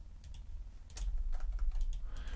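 Typing on a computer keyboard, with scattered key clicks gathering into a steadier, louder run of keystrokes over a low background hum.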